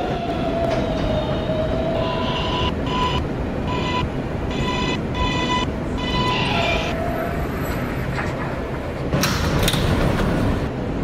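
Inside a moving New York subway train, a steady loud rumble of wheels on track fills the car, with a recorded announcement chime partway through and brief squealing and clatter near the end.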